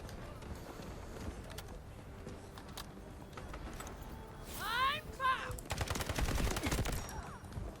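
Gunfire in the Delta Force video game: a rapid burst of shots in the middle, then heavier sustained firing near the end, loud over a background of game noise, with someone speaking at times.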